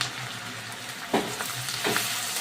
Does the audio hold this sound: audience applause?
no